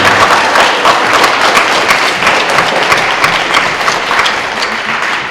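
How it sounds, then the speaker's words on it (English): A dense, steady wave of applause from a large crowd of students and parents at a sixth grade band concert fills the whole stretch, loud and continuous. "students, you need to clap for your parents. Give them a round."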